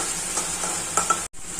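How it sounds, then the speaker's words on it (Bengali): Spice masala with turmeric sizzles steadily in hot oil while being stirred for a puti fish curry, a continuous bright hiss broken by a few scraping strokes and one brief drop-out near the end. "ভালো করে এবার কষিয়ে নেব। যখন তেলটা ছেড়ে আসবে তখনই মনে করবে আমার মশলা কষানোটা হয়ে গেছে।"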